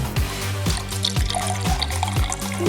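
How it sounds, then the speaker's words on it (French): Water poured into a container while testing a viral kitchen hack, a close, steady splashing and trickling stream that runs throughout with no talking. "Ensuite, on ajoute l'eau."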